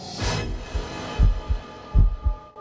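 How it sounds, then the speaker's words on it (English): Heavy, muffled heartbeat thumps in pairs, a slow steady rhythm over a low droning hum, from the intro of a song, recorded from the singer's own heart. "you can hear the heartbeats"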